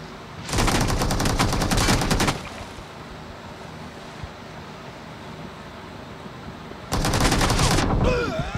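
Two long bursts of rapid Thompson submachine gun fire in the video game BGMI, the first lasting about two seconds, then a quieter pause before another sustained burst.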